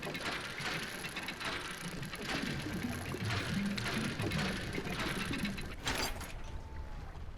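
Dredging mechanism in the DREDGE video game, a continuous ratcheting, gear-like mechanical clatter that runs steadily throughout, with game music and ambience underneath.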